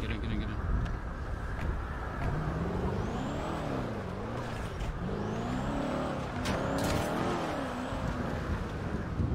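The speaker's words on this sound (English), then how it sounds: "You hear the car?" Engine of a car driving in the video game GTA, a steady mid-loud hum that rises and falls as it revs through gears, with people talking over it.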